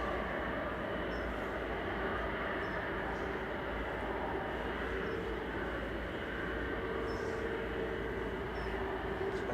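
A jet aircraft taxiing out at Manchester Airport, bound for Faro, gives a steady, distant broadband rumble with a faint high whine that holds level throughout, with no talk over it.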